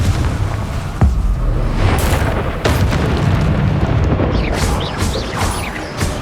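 Booming fiery blasts from the Confringo spell in the Hogwarts Legacy game, loud and close, with several heavy bursts rolling into one another over a dense rumbling wash of effects.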